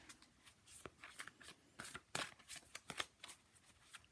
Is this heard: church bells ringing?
no